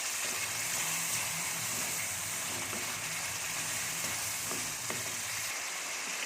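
Green peas being mixed and fried in a pan for matar ki bhujia, a dense, steady sizzle with soft stirring sounds underneath, fairly quiet, no speech.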